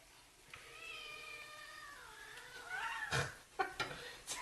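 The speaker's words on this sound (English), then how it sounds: "Sounds like our dog and our cat are killing each other." A house cat gives a long, rising and bending meow that turns into harsher yowls, followed by a few short squalls, fairly faint in a quiet kitchen.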